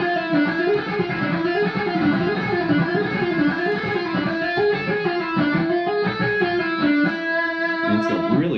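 Electric guitar with distortion playing a stretchy A harmonic minor legato lick, fluid rising and falling notes running continuously, loud and close without talk.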